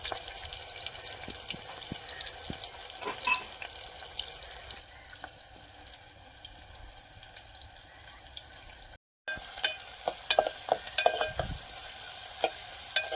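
Oysters with garlic frying in a pan give a steady sizzle, broken by repeated close stirring scrapes and clinks, with a brief silent gap midway and no talking.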